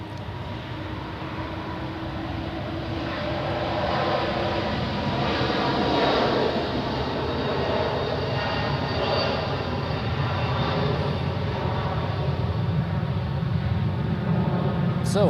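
Airliner taking off at Zurich Airport, a broad continuous jet engine roar that builds and holds steady at moderate distance for the whole stretch, with no talk over it.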